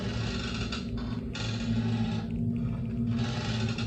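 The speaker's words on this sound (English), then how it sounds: "and we heard this creaking sound" Creaking from a basement below a door: slow, drawn-out groaning creaks with a mechanical, scraping quality, over a steady low hum, recurring in a few uneven bursts.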